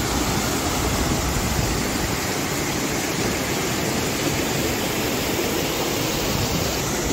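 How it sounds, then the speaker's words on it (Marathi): River water rushes beneath a bridge over rocky ground in a steady, loud, continuous broadband roar with no pauses. "ब्रिजच्या खाली सध्या अशा प्रकारे पाणी प्रवाहित होता"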